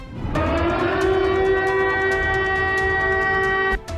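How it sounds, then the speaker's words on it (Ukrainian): A loud, steady air raid siren in Ukraine wails at a constant tone, holding for several seconds before cutting off abruptly. "Новий український тренд затяжні повітряні тривоги."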